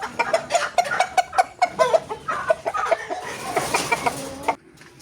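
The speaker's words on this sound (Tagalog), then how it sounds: "Ito yung pangalawa agaw na huhulihin kong manok." Close clucking from a large Joloano breed chicken being caught, a rapid series of short, agitated calls, fading near the end into quiet.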